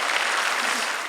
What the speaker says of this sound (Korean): 하나님이 살아계시다고 믿는 사람만 박수